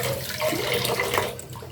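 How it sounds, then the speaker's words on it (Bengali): Polao rice grains are washed by hand in water, producing continuous close sloshing and swishing with no pause. "এভাবে চালটা ভালো করে ধুয়ে নিতে হবে।"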